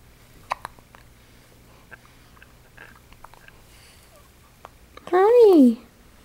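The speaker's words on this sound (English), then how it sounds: "This is a baby, 15 days old, and he's got the hiccups." A 15-day-old baby boy hiccups close by: small scattered clicks and breaths, then one loud, squeaky, rising-and-falling hiccup sound near the end.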